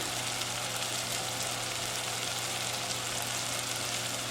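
Mash daal sizzles loudly and steadily in hot oil as crushed red chili goes into the pan. The frying hiss is dense and continuous, up close, with no voices.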